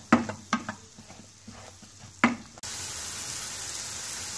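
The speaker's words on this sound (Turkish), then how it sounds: "Ve pırasalarımızı yağda çevirerek örmesini sağlıyoruz." Leeks being stirred and sautéed in oil with salt, with several distinct scraping stir strokes over a soft sizzle that gives way to a steady, louder frying hiss near the end.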